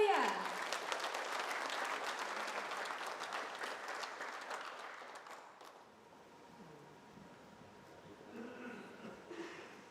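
A conference audience claps in a strong burst that thins and dies away after about five seconds, leaving quieter room sound with faint voices.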